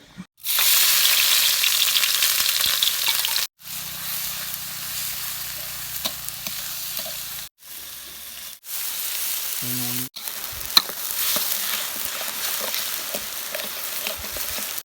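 Oil sizzles loudly in a pan for stir-frying seasonings after frying fish, a continuous crackling hiss broken by several abrupt cuts into silence and quieter stretches.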